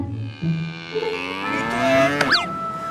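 A cow moos in a long, drawn-out call over a continuous background of other sound, followed near the end by a brief rising and falling whistle-like sweep.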